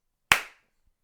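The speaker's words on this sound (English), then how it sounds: "Clap sync." A single sharp hand clap marks audio-video sync, loud and close in an otherwise silent room, with a short decaying tail.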